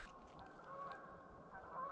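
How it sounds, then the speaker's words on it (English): Faint geese honk in the distance at Gun Lake, Michigan, over a steady outdoor background hum. "Look at the geese."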